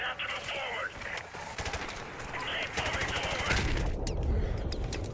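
Rapid automatic gunfire in the video game Call of Duty: Modern Warfare Remastered, sustained bursts of loud crackling shots with battle noise throughout, continuous and dense.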